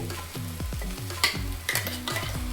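Sprouted grains fry in a pan, stirred in a fast, repeating scrape-and-sizzle rhythm close by, with a few louder clatters and no voices.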